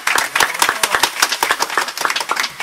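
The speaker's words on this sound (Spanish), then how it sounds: "Démosle un aplauso a mi camarada" A live audience at a comedy show claps in a steady burst of applause, many hands close and brisk for a few seconds.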